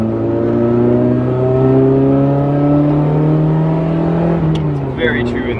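A 1989 BMW M3 engine runs and pulls up through the revs, a loud steady in-car drone with rising tone and a shift near the end, while someone speaks over it.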